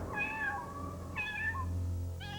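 Kittens meow in a series of clear, drawn-out cries, three distinct calls close by, each rising and falling, with a low steady hum underneath and no talking.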